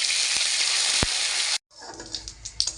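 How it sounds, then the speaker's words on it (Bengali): Ground ginger paste hits hot mustard oil with a loud, steady sizzle that lasts about a second and a half. It then cuts off sharply into quieter crackling and stirring. "তেল ভালো মতো গরম হয়ে গেছে, এখন আমি তেলের মধ্যে বেটে রাখা আদা দিয়ে দিচ্ছি।"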